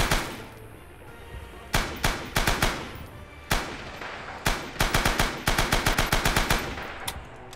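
Automatic machine gun fire in the WWII shooter Rising Storm: repeated short, loud bursts of rapid shots with brief pauses between them, close and sharp over a low background rumble.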